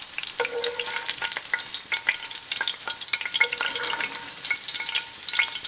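Beef chicharrones fry in rendered fat in a pan, a busy crackling sizzle with sharp pops and spits throughout, close and steady, no talking.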